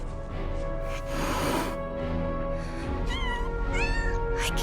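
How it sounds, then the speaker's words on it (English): Kittens meow repeatedly in the video game Final Fantasy VII Rebirth, several high rising mewls over a steady game music bed with a brief rustling burst. "Kittens?"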